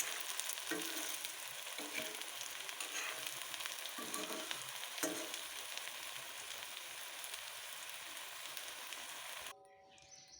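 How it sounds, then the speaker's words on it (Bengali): Banana flower pakoras deep frying in hot oil give a steady, close crackling sizzle with occasional louder bursts, alone without talk, cutting off abruptly near the end. "তো দেখো পকোড়াগুলো ভাজা হয়ে গেছে"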